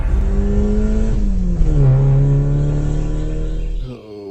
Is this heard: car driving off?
yes